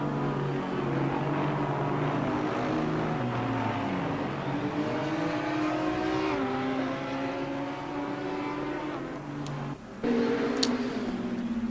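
McLaren 720S GT3 race cars in the game Assetto Corsa Competizione at Brands Hatch, engines droning and shifting pitch steadily as they run the circuit, loud and continuous with layered revs.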